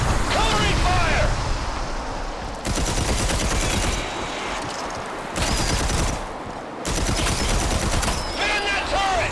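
Turret machine-gun fire roars in the sci-fi shooter game Red Faction: Armageddon, long loud sustained bursts separated by short pauses, with dense battle noise throughout.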